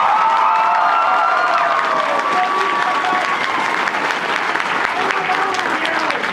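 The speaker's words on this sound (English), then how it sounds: "Everyone, clap for this man who is awesome." An audience at a Dragon Ball Z voice-actor Q&A panel claps energetically for a guest, a dense, steady wash of applause mixed with whoops and shouting voices throughout.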